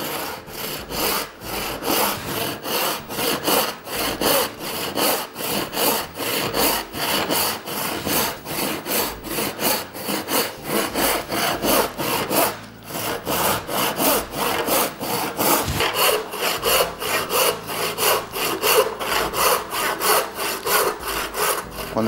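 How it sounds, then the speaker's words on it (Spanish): A hand saw cuts lengthwise along a wooden board, its strokes rasping in a steady, rapid back-and-forth rhythm, loud and close, continuing alone without pause. "Cuando estamos realizando un corte a lo largo de un tablero, vas a observar que va a llegar un punto que el serrucho se empieza a frenar"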